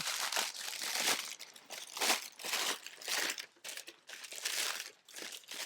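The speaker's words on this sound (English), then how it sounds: "Crunch that paper." Paper is crunched and crumpled by hand, close up, in continuous loud crackling and crinkling waves with brief lulls and no talk.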